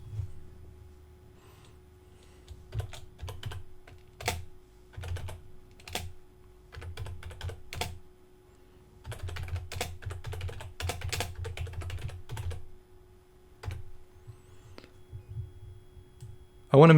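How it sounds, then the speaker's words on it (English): Bursts of fingers typing on a computer keyboard, clustered keystrokes with short pauses between runs, close and clear over a steady low hum. "Type in my text."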